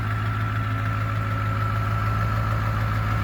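A 4x4 dually truck engine idles steadily and close, with a constant low hum and a faint knocking undertone and no talk.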